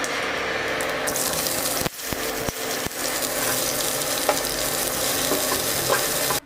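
Ghugni, a dried pea curry, cooking in a pan with onion, tomato and crushed garlic, giving a loud continuous sizzle and frying hiss with occasional stirring scrapes and clinks, close up, with no voices.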